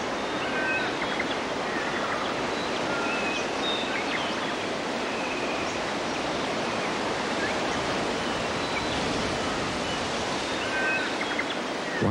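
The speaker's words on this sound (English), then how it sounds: "As the breeze stirs the millions of leaves, they make a sound like the murmuring of a great ocean." Breeze stirring countless leaves in a Western Australian forest, a steady, full, ocean-like rushing hiss holding constant throughout, with faint bird calls scattered above.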